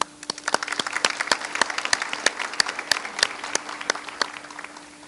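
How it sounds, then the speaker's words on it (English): A graduation audience of the class of 2022 applauds faculty and parents at a ceremony, producing dense, sustained clapping from many hands at moderate loudness with no speech over it. "I would like to have the class of 2022 applaud all of the faculty and parents for getting us to this amazing milestone."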